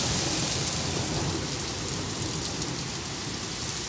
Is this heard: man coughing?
no